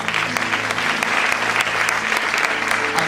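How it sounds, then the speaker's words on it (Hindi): A church congregation applauds loudly and continuously, a dense wash of many hands clapping at close range with no break in the sound. "आइए प्रभु के लिए जोरदार ताली बजाएं।"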